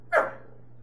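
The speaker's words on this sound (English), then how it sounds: "My dog just loves to bark" A small dog indoors gives a single short, sharp bark, close and fairly loud over a steady low background hum, with no speech.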